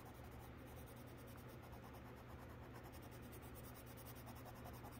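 A coloring pencil makes small, quick strokes on paper, a faint continuous scratchy rasp under a steady background hiss, with no voices.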